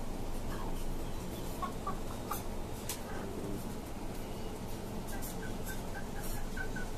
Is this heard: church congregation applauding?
no